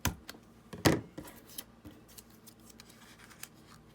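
Scissors cut cardstock to make a tag for a junk journal: a few close, crisp snips, one loud and sharp, followed by quieter scattered clicks and rustles.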